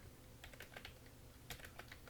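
Typing on a computer keyboard, a short burst of soft key clicks in two small clusters, faint and close, with no talking.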